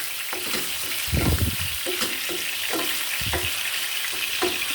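Garlic and ginger frying in masala in a pan on a stove, a loud, continuous close sizzle with bursts of stirring and scraping.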